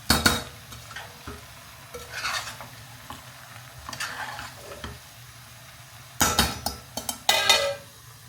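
Chillies frying in a pan while a Gujarati fasting-day meal is cooked, with bursts of sizzling, stirring scrapes and metallic clinks of a spoon against the pan, loud clusters near the start and end with quieter gaps between.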